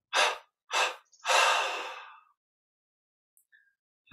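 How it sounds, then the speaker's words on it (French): One person breathes in three separate audible pulses, two short and a longer drawn-out one, close and clear, followed by near silence with faint small noises. "on inspire profondément par les narines, expire en 3 fois"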